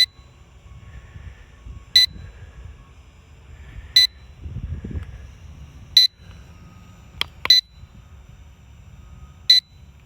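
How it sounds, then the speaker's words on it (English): A JJRC H78G GPS folding camera drone gives its low battery warning: short, high, piercing beeps repeat about every two seconds over a faint hum and some light rustling outdoors. "I assume that's a low battery beep"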